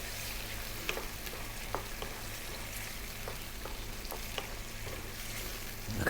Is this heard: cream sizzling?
yes